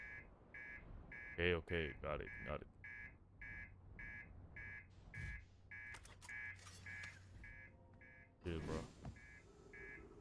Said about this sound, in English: master alarm.